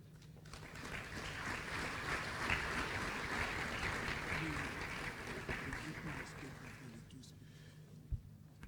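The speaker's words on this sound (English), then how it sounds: "Please, another round of applause for him." Audience applause at an APC political event honoring a former Lagos State deputy governor, a sustained wash of distant clapping from a crowd, fairly faint, ending near the close.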